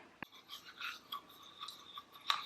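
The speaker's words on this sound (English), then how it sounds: "I'm gonna go ahead and brush my tongue with baking soda" A regular toothbrush scrubs a tongue coated with baking soda in quick, close, rasping strokes that come in uneven bursts, with no talking.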